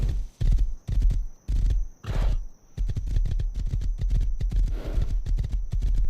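A horse in the Rust video game clip-clops along in quick, rhythmic bursts of hoofbeats, pausing briefly between runs, then trotting steadily and close.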